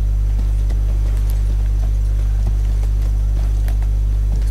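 Horse hooves clip-clop in the video game Elden Ring, faint rhythmic footfalls over a loud steady low hum, with no talk.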